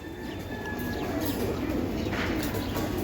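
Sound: female grizzle racing pigeon

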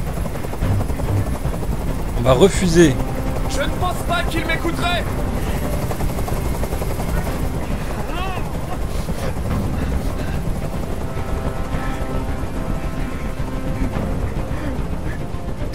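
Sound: helicopter hovering in a video game

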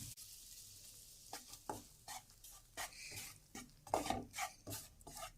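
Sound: gram flour (besan) being roasted and stirred in oil in a pan

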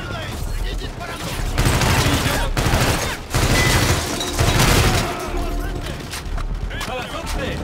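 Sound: gunfire in video game Call of Duty Infinite Warfare

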